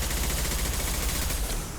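Gunfire in the video game Mass Effect 2 Legendary Edition comes as a loud, dense, continuous barrage of rapid shots with no pauses across the short stretch.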